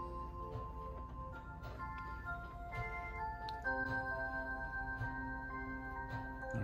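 Many clocks in a clock shop sound together, with layered sustained chime tones and soft ticking overlapping and continuing steadily, moderately quiet with no talk.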